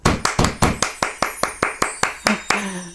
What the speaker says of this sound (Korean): 오랜만에 박수 치네요.